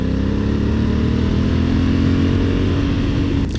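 A 2021 Honda Africa Twin adventure motorcycle engine holds a steady, slightly vibey mid-pitched drone with a strong low hum, loud and close, with no talking.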